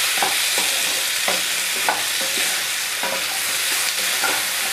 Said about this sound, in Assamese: সেইখিনি অকণমান সময় এনেকৈ ভাজি ল'ম, আদা নহৰুৰ কেঁচা গোন্ধটো যোৱালৈকে।